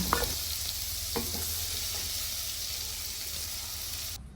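Flat beans sizzle and fry in a pan with salt, giving a steady, close hiss, and a few light scraping stirs sound near the start.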